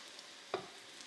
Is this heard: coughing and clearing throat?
no